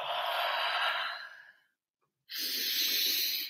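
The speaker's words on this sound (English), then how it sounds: "Breathe in." A person breathes out in a long, soft exhale, pauses briefly in silence, then draws a deep, airy breath in, close and quiet.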